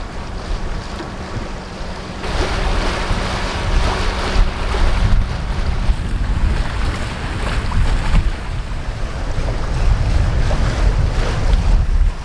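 A sailboat moving at around eight knots, with steady broadband rush of water along the hull and wind buffeting the microphone, fairly loud and continuous throughout with no talking.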